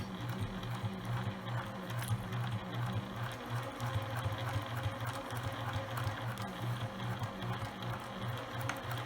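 Steady mechanical whirring and rapid needle patter from a home sewing machine back stitching at a 3.5 stitch length to lock the thread on a fabric face mask, continuous and close throughout.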